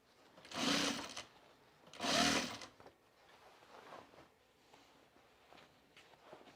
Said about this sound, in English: as I'm sewing on that line right there, we're good.